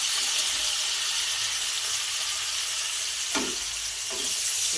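Green chillies and curry leaves hit hot oil in a pan for egg curry, giving a loud, steady, close sizzle throughout with a couple of brief stirring scrapes near the end.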